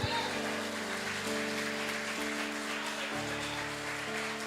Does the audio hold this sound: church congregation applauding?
yes